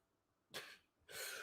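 A man sneezes twice, each a sharp, close burst of broadband noise a short half second apart, alone in an otherwise quiet room.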